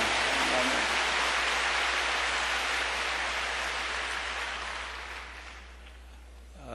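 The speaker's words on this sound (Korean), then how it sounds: "우리 하나님께 큰 박수 올려 드리십시다" Congregation applauding loudly at a Korean church service welcoming a preacher, a dense steady wash of clapping that holds for several seconds and then thins and fades toward the end.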